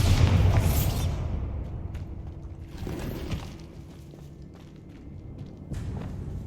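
A Bombarda blasting spell in Hogwarts Legacy bursts with a loud, rumbling explosion that fades over a couple of seconds, followed by softer thuds, crumbling debris and a second lighter blast.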